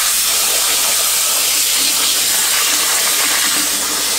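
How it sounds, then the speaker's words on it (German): Lukewarm tap water runs steadily from a kitchen faucet, rinsing tomatoes for a basic passata tomato sauce, a loud continuous close-up hiss and splash with no pauses. "Da könnt ihr ruhig lauwarmes Wasser verwenden, dann geht der Schmutz besser ab."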